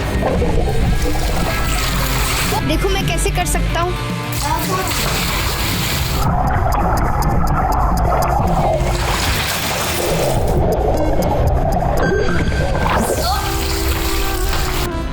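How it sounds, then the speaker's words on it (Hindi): Water splashing and sloshing as someone goes underwater, loud close splashes and pouring sounds running throughout, with someone talking over them. "चलो देखते हैं मैं पानी के नीचे कितनी देर रह सकता हूँ।"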